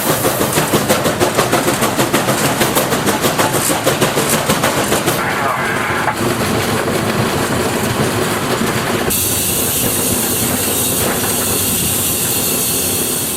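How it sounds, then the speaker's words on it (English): Steam-operated fire doors on a Chinese QJ steam locomotive hiss and chuff in a rapid, loud mechanical rhythm in the cab, later settling into a steady broadband roar. "Crikey, steam-operated fire doors."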